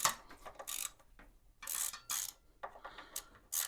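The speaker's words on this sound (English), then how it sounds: "then we'll break these 12mm bolts loose" A hand ratchet breaks loose 12mm bolts on the front wheel of a 2002 Honda GL1800 Goldwing motorcycle, giving several short bursts of clicking close up, with brief pauses between strokes and no talking.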